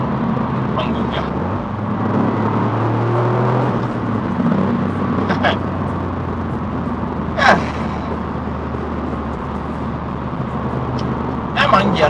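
A 2022 Toyota GR Yaris sports hatchback engine rumbles steadily at close range, a deep continuous drone with a few brief sharper noises on top.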